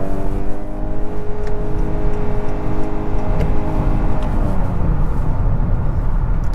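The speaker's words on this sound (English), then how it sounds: "The engine and electric motor works in tandem to get up to speed." A 2021 Honda Accord Touring Hybrid pulls away with its gasoline engine and electric motor working together, giving a steady, loud, close drone with a smooth tonal hum that builds gently over several seconds.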